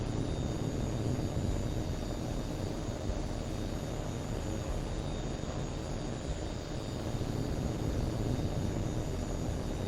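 Jet aircraft engine roar from the air-combat game HAWX 2, a steady, dense broadband rumble held at constant loudness throughout with no speech.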